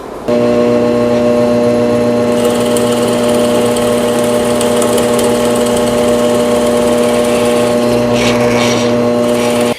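A power drill drives pocket screws into a wooden table frame, its motor running as a steady, close whine for nearly the whole stretch.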